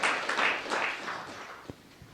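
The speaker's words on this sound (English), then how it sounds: "Give them a big round of applause for all of them." An audience claps for performers at a cultural event, the dense applause loudest at first and then thinning and fading, with one last sharp clap near the end.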